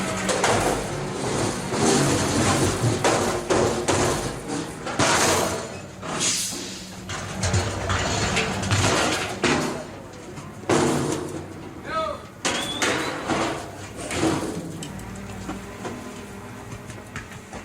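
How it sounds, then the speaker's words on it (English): A garbage truck's lifting motor whines and clanks as it hoists and dumps trash cans, with repeated heavy bangs and rumbling, and a voice talking over it. "What you are hearing is the lifting motor picking up and dumping the trash cans into the back of the"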